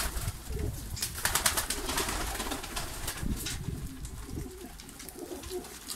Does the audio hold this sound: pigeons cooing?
yes